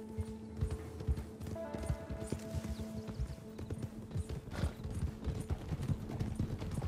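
Horse hooves clip-clop steadily in Red Dead Redemption 2 as the rider sets off, a continuous rhythmic trot of close, distinct hoofbeats over constant tonal game music and ambience.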